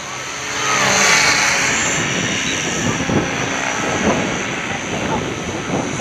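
A Gaui 550 radio-controlled helicopter in flight, a loud, sustained rotor and motor whine that swells early and then holds steady, with some outdoor wind rumble.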